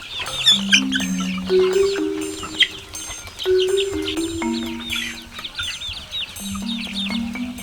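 About a month old free-range chickens cluck and peep in a busy, continuous chatter, with a few steady tonal beeps lower down and no voices.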